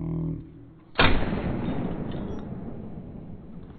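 A 20 gauge slug shotgun fires once at a bison in theHunter, a sharp, loud blast with a long rumbling tail; a voice is heard briefly before the shot.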